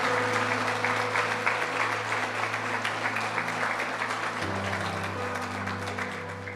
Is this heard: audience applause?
yes